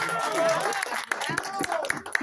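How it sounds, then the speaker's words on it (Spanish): Applause at a birthday celebration with a youth mariachi band from Colombia, clapping mixed with crowd noise under a speaking voice. "qué bonito que se escuche ese aplauso"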